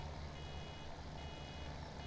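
Farming Simulator 17 in-game vehicle backing up, a steady repeating reverse beep over a constant low engine drone, heard alone at moderate volume.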